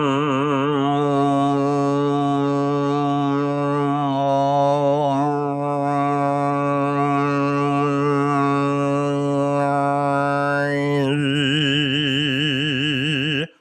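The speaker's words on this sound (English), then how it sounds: "So I do a hum and I move my tongue up and down in the back and forward in the middle" A human voice hums a steady, resonant low drone while the tongue moves to sweep shifting overtones up and down, giving a wavering, didgeridoo-like buzz that stays loud and continuous throughout, with a change of timbre near the end.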